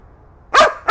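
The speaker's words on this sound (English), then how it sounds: "You might have to tease your dog quite a bit in order to get them to bark" A dog, being teased with a toy during training, gives a single sharp, close bark, followed by the start of another right after.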